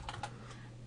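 Brief, soft typing on a computer keyboard, a few quiet key clicks close by against a low steady hum.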